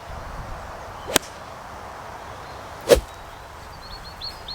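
Two sharp, isolated golf club strikes on a ball at a driving range crack out a couple of seconds apart against faint outdoor background noise, crisp and clicky.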